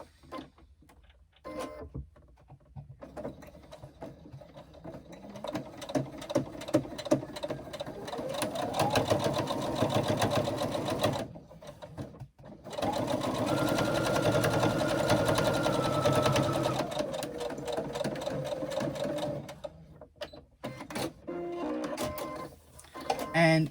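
A sewing machine runs in long steady bursts stitching a quarter-inch seam on fabric panels, with a loud, close motor whir and pauses between runs, under a voice talking.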